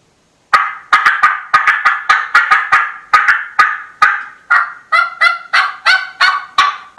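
A turkey call imitates the cutting of an excited hen: loud, rapid bursts of sharp clucks and yelps in quick uneven runs, close and alone.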